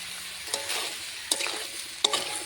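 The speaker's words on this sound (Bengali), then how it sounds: "ভালো করে কষিয়ে নেব সবজির সঙ্গে মশলাটা" Ground ginger, cumin, green chilli paste and coriander powder sizzle in oil with potato, cauliflower and flat beans, a soft steady frying hiss broken by a few sharp spatula scrapes against the pan, close up and without speech.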